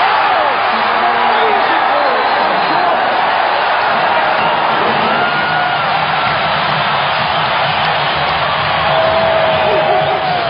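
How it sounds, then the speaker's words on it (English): A capacity basketball crowd in Chicago gives a standing ovation, a loud, unbroken arena roar of cheering and whoops that fills the space evenly from start to end. "Standing ovation from this capacity crowd in Chicago"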